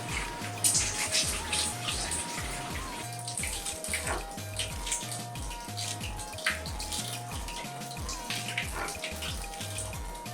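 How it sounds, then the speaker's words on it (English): Vegetables being washed thoroughly by hand in water in a kitchen, with continuous splashing and running water close by and rhythmic low sloshing, under steady background music. "so I wash the vegetables thoroughly"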